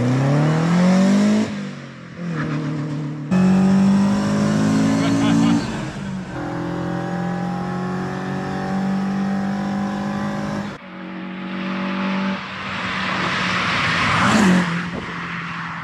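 A car fitted with a Z-Tech engine running on bike carbs and making over 200 horsepower revs hard through several rising gear pulls, loud and close with a brief gap between shifts, while a voice speaks over part of it.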